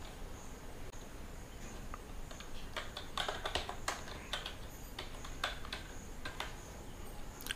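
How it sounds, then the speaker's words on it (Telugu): Typing on a computer keyboard, a quiet run of light plastic key clicks in irregular bursts that grow denser midway, with a faint insect-like hiss in the background and no voices. "ఇక్కడ టెక్స్ట్ టైప్ చేస్తాను."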